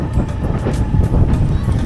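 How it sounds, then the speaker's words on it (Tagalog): Strong wind buffets a boat near a bridge off Siargao, a loud, steady rumbling roar with gusty low-end blasts, no voices over it. "Sobrang lakas na yung hangin."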